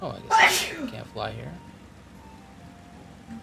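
A single loud, close sneeze bursts out near the start, followed by someone talking while faint game-like background hum continues.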